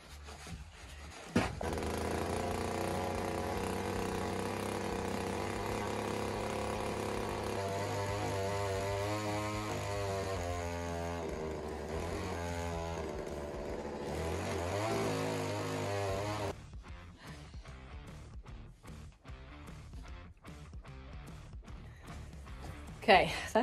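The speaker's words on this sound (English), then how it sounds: "that augering is no joke" A motorized power auger drilling a post hole drones steadily for over ten seconds, its engine pitch wavering under load, then cuts out, leaving quieter rustling and knocks.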